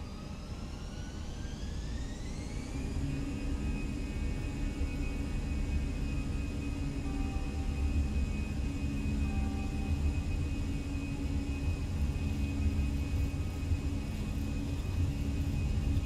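Airbus A320 jet engines spool up to takeoff thrust in Microsoft Flight Simulator 2020, a steady loud roar with a rising whine that settles into a sustained high tone over deep rumble, continuous throughout.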